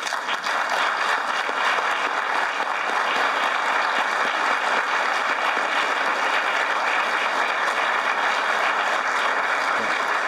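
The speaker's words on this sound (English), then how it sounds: "we could give them a round of applause after they stand" Sustained applause from a graduation audience honoring Fuqua Scholars, a dense, steady wash of many hands clapping at even loudness from start to finish with no talk over it.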